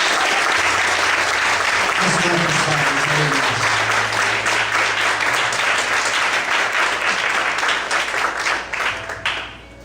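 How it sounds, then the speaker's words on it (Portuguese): A church congregation applauds loudly and steadily for nearly ten seconds in a large worship hall, a dense wash of clapping with low organ or keyboard tones sustained underneath before it tapers off at the end. "Você pode aplaudir bem forte o Senhor."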